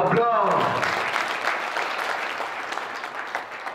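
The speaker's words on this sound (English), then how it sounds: "Let us give him another round of applause." An audience at a higher-education event applauds a ministerial representative, a dense round of many hands that starts at full strength under a voice and then eases into a gradually thinning patter.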